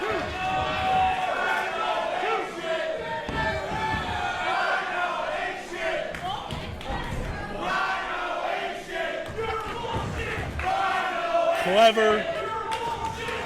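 A crowd at a Granite City pro wrestling event cheering and shouting for a hometown favorite, sustained roar with swelling chants, heard under a commentator's speech with occasional thuds from the ring.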